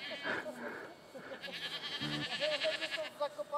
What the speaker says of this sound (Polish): Jakie fajne kozulki!